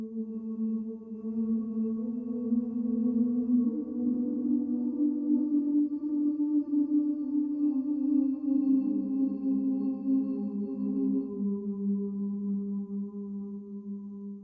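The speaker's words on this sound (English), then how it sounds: "the live input is modified by a granular reverb" Sustained layered tones drift slowly in pitch, smeared and shimmering, a live input processed through granular reverb on a Symbolic Sound Kyma system, steady in loudness with no speech.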